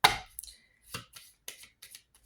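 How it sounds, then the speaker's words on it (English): Irregular sharp knocks and thuds from construction of a house next door, a handful of separate hits spaced apart with quiet gaps between. "we have people working outside, building a house next door."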